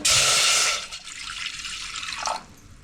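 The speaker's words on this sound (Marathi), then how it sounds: "हे साखरेचा पाक बनवण्यासाठी मी काय करते पाणी घालते" Water is poured into a pan to start sugar syrup for coconut puri, a loud splashing rush for under a second, then a softer trickle that tapers and stops.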